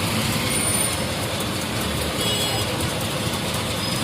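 Traffic stuck in a long jam in Delhi, with cars and buses idling: a steady, dense wash of engine rumble and road noise that holds at an even level throughout, with no clear voices.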